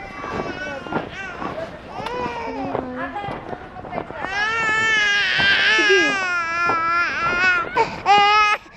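A baby cries in rising, tonal wails amid nearby voices, growing louder and more insistent in the second half while people talk around it.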